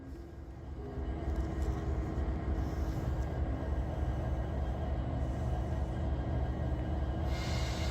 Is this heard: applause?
no